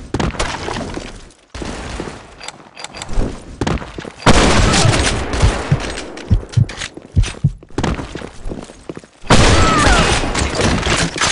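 An AWP sniper rifle in a shooter video game cracks out loud, heavy shots amid dense, crashing game noise, with bursts and brief gaps across the stretch.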